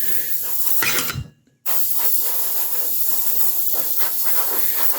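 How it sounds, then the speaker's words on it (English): An airbrush sprays Army Painter True Copper paint onto a 1/6 scale model, making a loud steady close hiss broken by one brief pause, then continuing evenly. "You put it in your airbrush and just mist it on"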